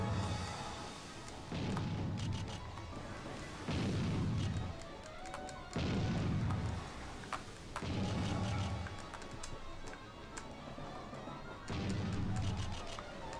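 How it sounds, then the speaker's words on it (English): Warship guns fire at an enemy ship in Naval Ops: Warship Gunner, five heavy booming salvos spaced about two seconds apart, each with a rumbling tail, with no talk over them. "There we go, I should be able to shoot at him now."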